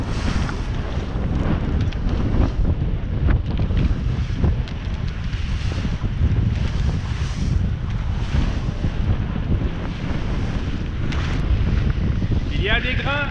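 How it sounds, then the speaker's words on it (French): A sailboat driven hard by strong wind in a squall, with loud steady wind buffeting and rushing water and waves throughout, and brief voice sounds near the end. "On est dans un grain."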